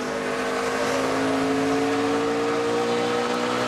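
NASCAR stock cars race around the track at the 2011 Kobalt Tools 500, a dense continuous engine roar with steady droning pitch, loud and sustained throughout.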